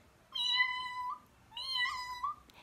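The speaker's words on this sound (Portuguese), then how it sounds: "ela começou a ouvir um miado" A cat meows twice, two clear drawn-out calls separated by a short pause, fairly close in a quiet room.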